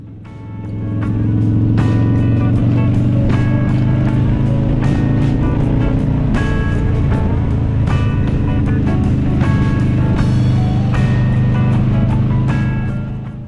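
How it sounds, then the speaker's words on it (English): A Harley-Davidson Dyna Fat Bob motorcycle rides through Karangahake Gorge, its steady V-twin engine thrumming loud and close throughout with wind rushing over it and short bursts of higher mechanical noise. "obviously I'm still riding my regular ride, the Dyna Fat Bob"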